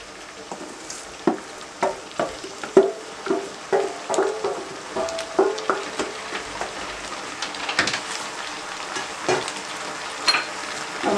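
Chicken and vegetable noodles stir-fried in a hot pan, with a steady sizzle and repeated close utensil scrapes and clanks as the noodles are tossed and mixed.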